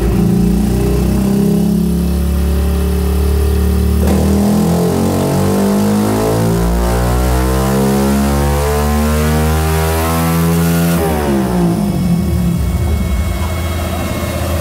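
Honda Start 160 motorcycle engine with a remapped ECU, revved hard and held high, then dropping, climbing again in smooth sweeps and falling back near the end, loud and close with no talking.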